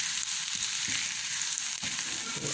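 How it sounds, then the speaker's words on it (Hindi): Garlic browns in ghee for mung dal, giving a loud, continuous close-up sizzle with a steady crackling hiss and a few faint stirring knocks, no voices. "जब लहसुन को हम हल्का सा ब्राउन करते हैं घी के अंदर।"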